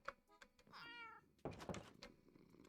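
A Minecraft cat meows in the game, two or three short close mews mixed with brief knocks and thumps, faint overall with no talk over it.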